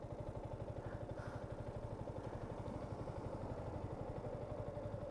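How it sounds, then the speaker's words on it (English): A motorcycle engine idles steadily with a low, even pulsing rumble and light mechanical clatter, close by and alone for the whole stretch. "This bike just purrs, it's like a cat."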